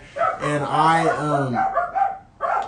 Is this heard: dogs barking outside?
yes